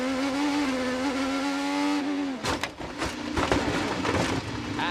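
IndyCar onboard engine of Will Power's car in a 2023 race crash, a loud steady high-pitched whine that drops abruptly, then rough bangs and scraping bursts of impact noise.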